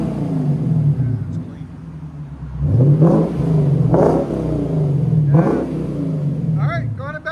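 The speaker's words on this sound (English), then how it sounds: "Put it in sport. Let's see if it changes. So this is sport mode now." Lexus IS 500 with its 5.0L V8 in sport mode, fitted with an aftermarket axle-back exhaust, revs up in three sharp, loud bursts over a steady idle rumble, with people talking nearby.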